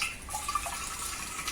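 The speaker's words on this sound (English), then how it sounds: "So I'm closing the tap." Hot water running from the tap of a traditional wood-fired water heater into a bucket, a steady close hiss of pouring water with faint splashy trickles, no voices.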